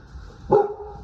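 A single short, loud bark from a nearby dog, one sharp woof over a quiet outdoor background.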